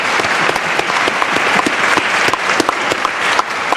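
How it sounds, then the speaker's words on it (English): A crowd at a book festival panel on journalism claps and applauds steadily for a few seconds, loud and close, with no talking. "we gotta have a round of applause on that one"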